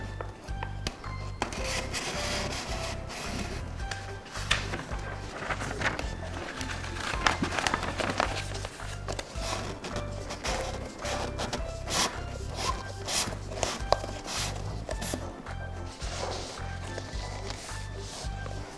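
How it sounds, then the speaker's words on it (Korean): Rolled A4 paper sheets pushed through holes between stacked plates, giving close, continuous rubbing and scraping with dense crinkly rustles and light knocks throughout, no voices. "이렇게 만 A4 용지를 층간판 사이에 있는 구멍들을 통해서 끼워 넣어 줄게요."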